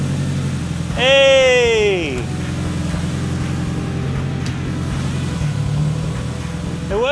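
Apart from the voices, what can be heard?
front-wheel-drive Mitsubishi Evo pulling away in first gear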